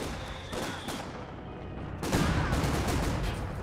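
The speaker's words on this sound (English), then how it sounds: "they've got the machine gun bunker and plus the normal machine guns which they've been deploying here" Dense, sustained battlefield gunfire from Company of Heroes 2, with machine gun bunkers and deployed machine guns firing continuously. It grows louder and heavier midway, with booming bursts layered over the rattle.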